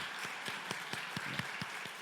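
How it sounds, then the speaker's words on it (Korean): A church congregation claps in a steady rhythm at moderate distance, soft and even, with no talk over it. "우리 박수로 잠깐 일어나시면 환영하겠습니다"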